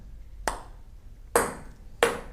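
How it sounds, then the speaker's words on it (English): Three crisp, separate taps of a table tennis ball brushed with a flat bat to put backspin on it, each a short bright ping with a quick decay, close and quiet in a still room. "you can brush on the back of the ball, and that's where the spin comes from"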